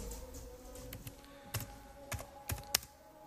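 Computer keyboard keys tapped in a short, uneven burst of distinct clicks, close and fairly quiet, while a topic is typed in while setting up a Zoom meeting; no voices.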